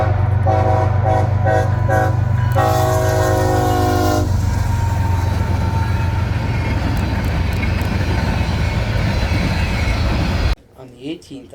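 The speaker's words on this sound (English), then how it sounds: "I caught CSX M367 heading west with CSX 1981, the Pan Am Railways Heritage leading" CSX M367, a westbound freight led by CSX 1981 Pan Am Railways Heritage locomotive, passes close and loud, with several repeated horn blasts over a rumbling, clattering train before it cuts off abruptly.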